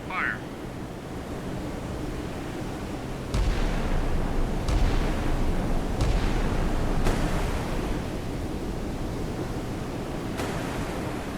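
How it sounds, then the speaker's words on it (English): A naval gun fires salvos in a video game. Several booming shots land a second or more apart over a constant rushing background noise. "Salvo fire."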